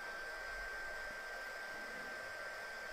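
A steady, continuous blowing whoosh of hot air from a heat tool warming droplets on a card, even and unbroken throughout, with no voices.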